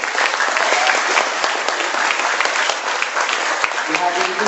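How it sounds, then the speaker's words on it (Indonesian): An audience at a presentation in Jakarta breaks into sustained, dense applause, loud and close, with a voice speaking over the clapping. "Beri aplaus dong buat Ibu Esther."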